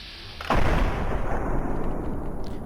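A single loud gunshot from Fallout 3 bursts in with a sharp onset, then rolls into a long, broad rumbling decay that lingers to the end with no one talking.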